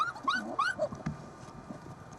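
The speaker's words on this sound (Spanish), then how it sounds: "La simbiosis del sami y los perros husky es uno de los mejores espectáculos que se puede disfrutar sobre las nieves de Finlandia." Husky sled dogs in the snows of Finland yip and whimper in quick, high, excited bursts close by, followed by a few softer whines over low background noise.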